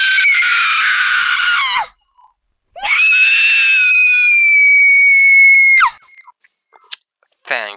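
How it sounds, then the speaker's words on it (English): A creature from the Mythological Add-on in Minecraft Bedrock Edition lets out two long, loud, shrill screams, one of about two seconds and a longer one of about three seconds, with a brief pause between them and small faint clicks after. "she screams like I'm going to die"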